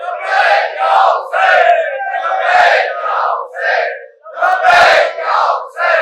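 A large crowd at a Shia religious majlis chants back loudly in unison, with repeated rhythmic bursts of many voices close and filling the space.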